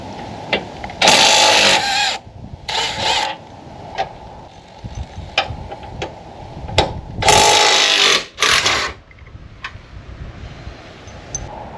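A cordless impact ratchet with a 15 mm socket spins out a bumper bolt on a Bronco during an ARB Summit bumper install, giving several loud buzzing bursts separated by pauses, with clicks and handling noises in between.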